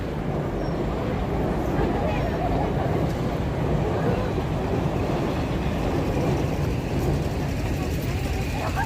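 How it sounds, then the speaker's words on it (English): A train runs along a line in Tokyo, heard as a continuous low rumbling roar that holds steady throughout at moderate distance, with faint voices and street noise underneath. "Down here we have the train line."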